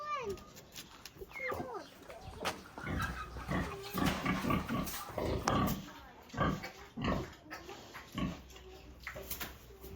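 Pigs grunt and squeal nearby in irregular bursts on a village farmstead, with people talking over them.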